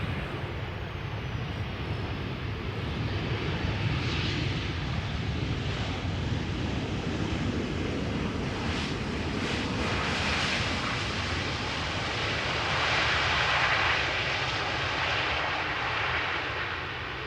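A Ryanair airliner arriving from Dublin roars in at Amsterdam Schiphol, a sustained broadband engine rumble swelling and fading steadily outdoors with wind in the background.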